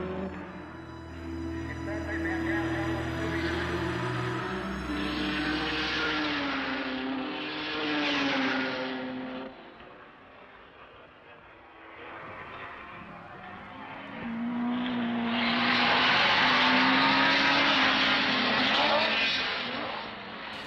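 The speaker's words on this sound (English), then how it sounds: "The Ecurie Ecos D-type Jaguar, driven by Flockhart and Beckhart, comes into the pits" An Ecurie Ecosse D-type Jaguar race car pulls into the pits at Goodwood, its engine note rising and falling as it slows, loud and fairly close, with a commentator speaking over it.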